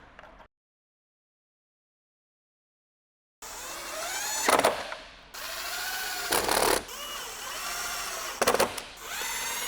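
A power drill whirs in loud, ratcheting bursts as it drives screws into a new LED sequential tail light on a C7 Corvette. It starts after a stretch of silence, with several rising spins and brief pauses.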